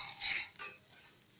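A spoon stirring kolukkattai powder mixture in a pan over a low flame, soft scraping strokes that are brief and fairly quiet.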